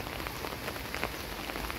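Rain falls steadily in a wet grassy area where an electric lawn mower is cutting grass over standing water, a dense near patter of drops with brief heavier splashes and no voices.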